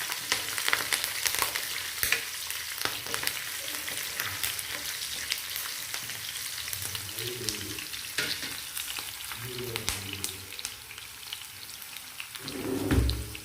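Wet curry leaves crackle and spit in hot oil for a savory pongal, a dense continuous sputter like rain with sharper pops and occasional stirring scrapes, close up and without talk.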